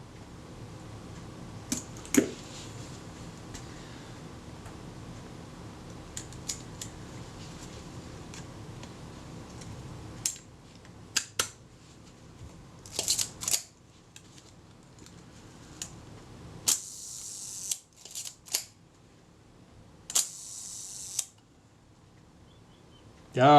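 Sharp, dry mechanical clicks come from a Retina Reflex type 025 camera shutter mechanism being worked during a service, as isolated snaps and a few quick clustered bursts in a quiet room with a faint hum.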